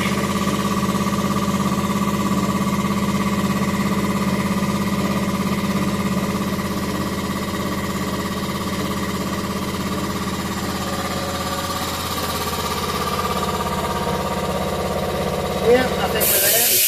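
Compressed air hisses from an airline into a tire on a Chevy 2500HD V8, a long continuous rush over a steady engine-like compressor drone with a faint hum, ending in a brief clunk as the flow stops.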